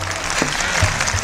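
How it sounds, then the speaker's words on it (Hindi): A short, loud burst of audience clapping at a Hindi religious discourse, dense and continuous for about a second. "बजाओ जोरदार तालियां।"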